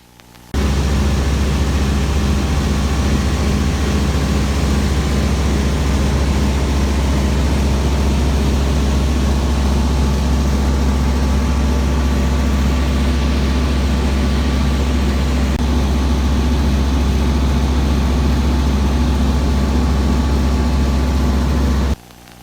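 A small propeller plane's engine drones steadily and loudly in flight, a constant low hum with rushing wind, cutting off abruptly at the end.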